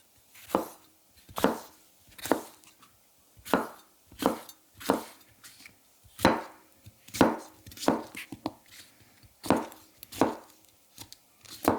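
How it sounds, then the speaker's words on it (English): A Mazaki 210mm gyuto knife cutting through a bell pepper on a board, producing a series of crisp, close chopping thuds at an uneven, unhurried pace with quiet gaps between cuts. "The weight of the knife here also really helps when pushing through the pepper."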